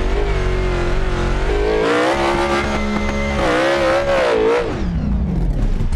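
A Ford Mustang GT in the BeamNG driving game roars loudly off-road, its engine pitch rising and dipping with revs and shifts, tires scrubbing underneath, with no voices.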